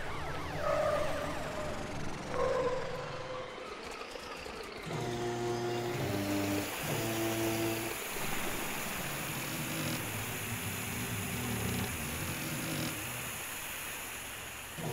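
Police car sirens sound in a children's cartoon about patrol cars and an excavator, wailing and alternating tones over a busy layered mix of music and effects, with no talking.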